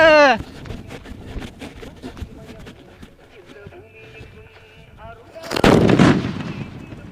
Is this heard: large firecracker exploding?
yes